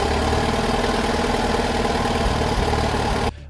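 Case Model L tractor engine running at a steady idle, a loud close rumbling throb with even pulsing rhythm, cutting off abruptly just before the end.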